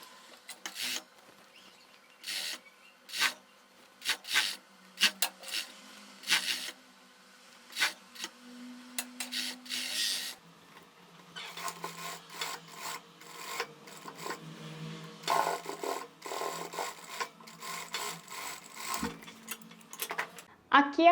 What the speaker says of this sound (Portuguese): E agora eu vou passar uma costura na overlock e em seguida uma costura na reta.